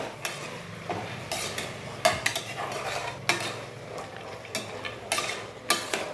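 Rice being stirred into vegetable pulao in a pot, a spoon scraping and knocking against the metal in uneven strokes with sharp clinks, close and moderately loud, no talking.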